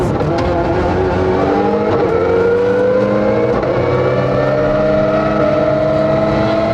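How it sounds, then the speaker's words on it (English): A rally car at full throttle on a tarmac stage during the 2002 Jim Clark Rally, its engine note climbing steadily through the gears, loud and close from onboard, with no talk over it. "It's hot work for Andrew and James in the cabin of the Cuisine de France car"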